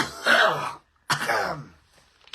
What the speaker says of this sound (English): It's not just gonna be me coughing for 40 minutes.